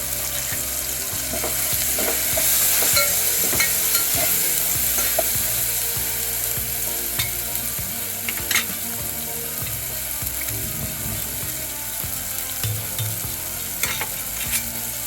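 Tomatoes and turmeric sizzle steadily in a pan while a spoon scrapes and stirs with frequent clicking strokes, close and continuous with no talk.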